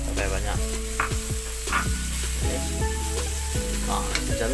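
Cincalok fried rice with egg sizzles loudly in a pan, a dense constant hiss with intermittent scraping stirs, close up and without talk.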